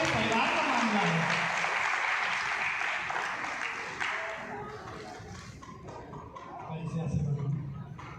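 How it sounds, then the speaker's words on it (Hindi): Audience applause at a Kesariya Hindu Vahini event, a dense, steady wash of clapping from a crowd that fades slightly midway and swells again near the end, with a voice over it. "ताली तो बजाएंगे आप लोग"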